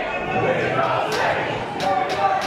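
A wrestling crowd at an Xtreme match between RKJ and Ice Man chants together in a loud, dense roar that fills the space, with a few sharper shouts rising out of it.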